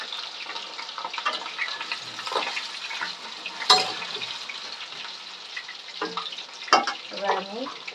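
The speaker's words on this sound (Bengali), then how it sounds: "কড়াইয়ের তেল গরম করতে দেওয়া হয়ে গেছে, এবার আমি আলুগুলো আস্তে আস্তে দিয়ে দেবো।" Potatoes fry in hot oil in a wok, giving a steady broadband sizzle with occasional louder crackles and bursts as pieces go in and are stirred, no voices.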